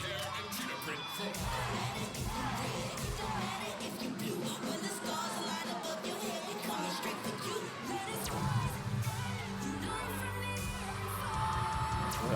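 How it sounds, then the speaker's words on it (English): Crowd cheering and whooping at a cheerleading competition semifinal, a roaring arena with music playing, under an announcer's commentary throughout. "Oh, the crowd is going crazy for these ladies."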